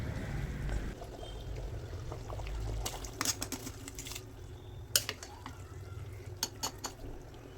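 Soaked rice tipped into a pot of boiling water for mutton biryani: a soft pour and bubbling, then scattered clinks and scrapes of a utensil against the pot, fairly faint.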